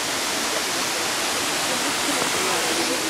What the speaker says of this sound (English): The massive Kintampo waterfalls.